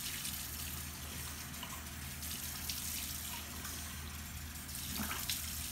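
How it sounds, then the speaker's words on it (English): Running tap water splashes steadily into a sink as a charcoal face mask is rinsed off, a continuous close gushing hiss that swells slightly near the end. "Just make sure you rinse really good."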